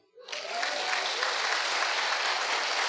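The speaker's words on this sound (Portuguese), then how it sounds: "Pode aplaudir?" A church congregation breaks into applause after a short quiet moment, dense, sustained clapping that swells quickly and holds steady, fairly distant.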